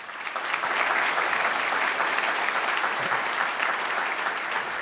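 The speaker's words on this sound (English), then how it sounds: "Please give them a round of applause." Audience at a regional economic development board meeting applauds, a dense, steady wash of clapping that runs loud and unbroken for about five seconds with no talk over it.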